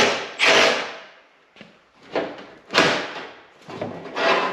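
Metal rocker panel being fitted back onto a 1973 Plymouth Cuda, giving several loud, close thumps and clangs of sheet metal knocked into place at uneven intervals, with no one talking.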